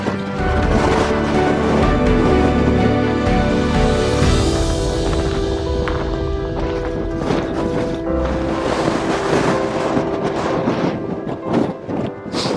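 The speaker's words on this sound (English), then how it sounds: "Just a bit windy." Strong wind on the Langdale Pikes in the Lake District buffets the microphone in a continuous roar, gusting and rumbling throughout with no voices.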